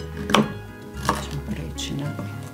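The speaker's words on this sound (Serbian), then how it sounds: "samo ćemo je isjeckati" A knife chopping vegetables on a board in a home kitchen, a few sharp close cuts spaced irregularly, with soft handling noise between them.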